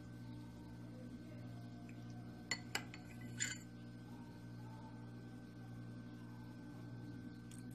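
A metal spoon clinks lightly against a dish while homemade pudding is tasted, giving two quick taps and then a short scraping clatter near the middle, over a steady low hum with no talking.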